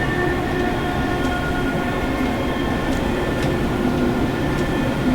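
An AP Class 411/412 electric train in a video game pulls away from a station in the rain, a steady rumbling drone with faint rail clicks and occasional squeals, loud and continuous with no talk.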